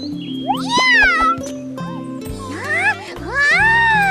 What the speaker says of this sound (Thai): เจ้าแมวตัวนี้ หน้าตาเหมือนเจ้าแต้มที่อยู่ในวัดเราสมัยอโยธยาเลยนะขอรับ